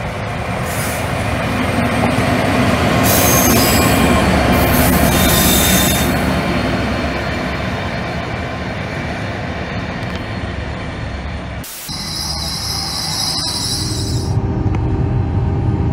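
A freight train moving from Leicester to Long Marston storage rolls past Moreton-in-Marsh station, loud and close, with sustained high-pitched wheel squeals that come and go over a steady rumble of wagons.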